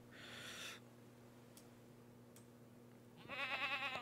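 Goats in the survival card game Card Survival: Tropical Island give two short, nasal bleats, one at the start and one near the end, separated by a quiet stretch with faint clicks.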